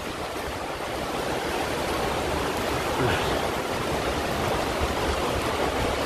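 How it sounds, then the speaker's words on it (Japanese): Heavy rain pouring outdoors on a main shopping street in Kishinosato-Tamade, Nishinari: a steady, loud, dense hiss with no break. "うん、雨の音がすごい、"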